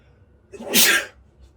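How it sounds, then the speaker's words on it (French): A single sharp human sneeze during a French-language math lecture, a brief loud burst rising after a quiet lead-in, close to the microphone. "Excusez-moi, j'avais éternué."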